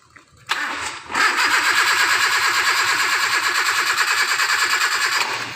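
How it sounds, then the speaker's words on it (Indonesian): A Toyota Kijang 5K petrol engine cranks briefly, then catches and settles into a steady, slightly lumpy idle with a fast rhythmic pulse, loud and close, just after a distributor has been fitted. "Jadi mesinnya sudah hidup ya"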